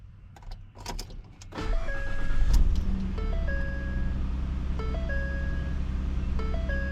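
A 2013 Ford F150 truck starts up and idles, with repeated two-tone electronic chimes and a door or switch clunk at the start, then a steady engine hum under the recurring dings.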